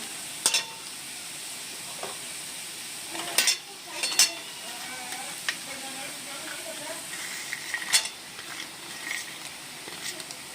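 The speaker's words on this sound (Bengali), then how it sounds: "এবার আমি কড়াইতে বাদাম ছেড়ে দেব।" Peanuts sizzle softly in a wok-style pan while a utensil scrapes and clinks against it repeatedly, close by.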